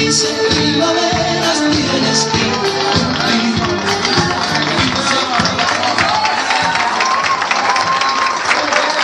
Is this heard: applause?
yes